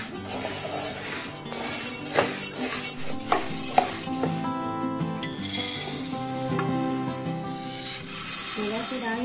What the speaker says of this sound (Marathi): सतत ढवळत राहिल्याने डाळ चांगली फुलून भाजता येते, म्हणून सतत ढवळत राहायची आहे।